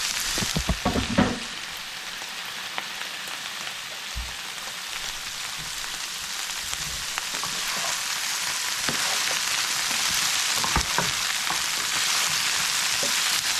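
Brussels sprouts fry and char in a hot pan, a steady, dense sizzle with crackling pops that holds throughout and grows slightly louder toward the end, with a few stirring knocks near the start.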